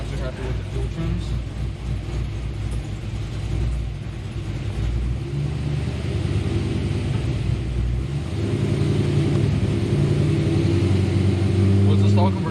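A cammed Pontiac GTO engine idles with a deep, loud, lumpy rumble that swells slightly toward the end, while voices talk over it.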